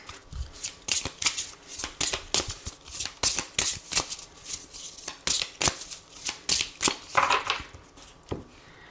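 A deck of tarot cards being shuffled and cut by hand, giving a quick run of crisp riffling and slapping bursts, close and fairly loud, with no talk over it.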